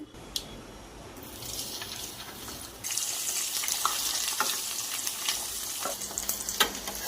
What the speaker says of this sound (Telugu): ఇప్పుడు బాండిల్లో సరిపడా ఆయిల్ వేసుకొని చికెన్ డీప్ ఫ్రై చేసుకోవాలి